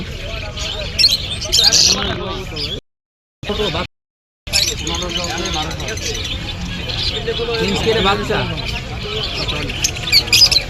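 Caged birds squawk and chirp at the Hemayetpur bird and pigeon market, sharp repeated calls layered over a busy murmur of people talking nearby, with the sound cutting out twice for a moment.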